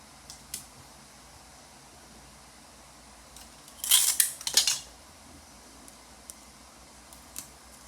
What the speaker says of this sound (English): I'm gonna trim my cord right across